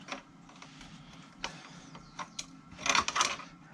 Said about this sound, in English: So onto the bike, and I'll show you how it's done. Right, so we thread the chain around.